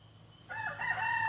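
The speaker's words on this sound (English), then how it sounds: "these two fucking dumb roosters that don't do anything for me other than crow at almost 9 p.m." A rooster crows loudly and close by in one rising, sustained call at a backyard flock kept in bear country, following a brief moment of quiet.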